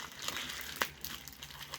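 Soft crinkling of a plastic parcel bag from China being handled up close, quiet rustles with one sharper crackle midway.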